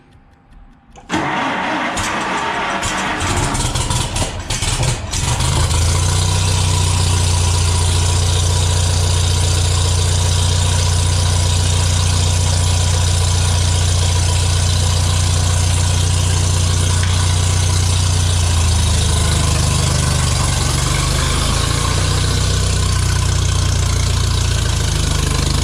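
A Farmall M tractor cranks and catches on its first start of the year, then settles into a loud, steady, close-up idle that runs unbroken.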